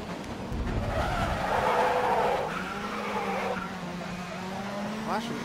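Car tyres squeal and skid under heavy braking in the GRID racing game, a sustained screech over the engine's drone that eases off toward the end.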